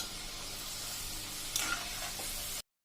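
Potato French fries frying in hot oil over a full gas flame, a steady close sizzling hiss that holds throughout with a few brief crackles and stirring scrapes, then cuts off abruptly.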